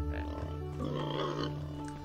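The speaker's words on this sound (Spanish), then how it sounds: "Vale, cuidado que los cerdos estos atacan, ¿eh?" Pigs grunt in the mobile survival game Mine Survival, low rough grunts under a steady hum of game music, with someone talking over them.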